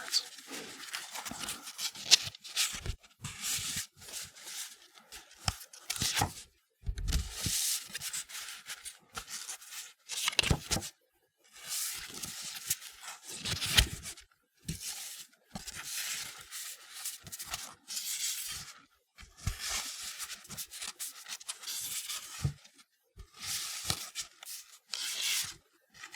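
Paper note cards being shuffled and handled in bursts of soft rustling and rubbing, separated by brief pauses, close and quiet, with no talking, during a study session for a Texas History exam.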